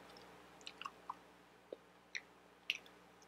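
Mint saltwater taffy being chewed close up in a quiet room, a handful of soft sticky clicks and wet smacks spaced irregularly, faint and intimate.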